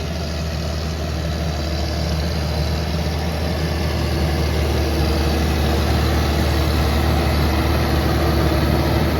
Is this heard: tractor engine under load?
yes